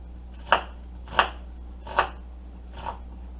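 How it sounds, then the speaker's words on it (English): Four sharp, evenly spaced knife chops through a red onion on a cutting board, each a crisp thunk about two-thirds of a second apart, close up and alone over a low hum. "And your onion, you can cut them as big or as small as you would like."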